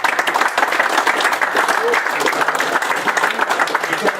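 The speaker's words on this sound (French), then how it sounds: "On peut les applaudir aussi." Indoor audience applauding prize winners at a pike and perch fishing-competition awards ceremony, a steady dense clatter of many hands throughout with voices mixed in.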